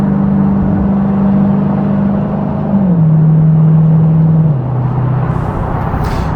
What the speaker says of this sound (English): Let's just do an acceleration from like 35 miles an hour.